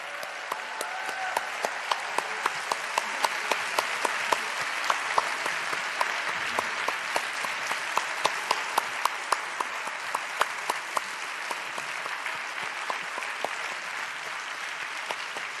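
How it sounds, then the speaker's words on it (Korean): A church congregation at a Sunday service applauds a youth choir after their hymn, with sustained, dense clapping from a large room that stays steady and full throughout. "우리 귀한 찬양으로 섬겨준 우리 청소년국 아이들에게 다시 한번 크게 격려의 박수를"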